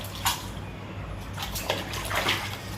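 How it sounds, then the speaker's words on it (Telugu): Water poured all at once over a batch of dishes and utensils being washed at home, giving soft splashing and sloshing bursts with a few sharper splashes, close up and with no talking. "అన్నీ ఒకేసారి నీళ్ళు పోసేయాలి"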